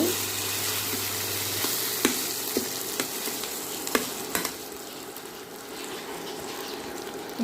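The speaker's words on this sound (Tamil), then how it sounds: "மூடி வச்சுருந்த கோவக்காயை நல்லா திறந்து நல்லா இப்படி கிண்டணும்" Ladle stirring ivy gourd (kovakkai) stir-fry in a pan, a steady soft sizzle with scattered scraping clacks of the spoon against the pan, close and alone without talk.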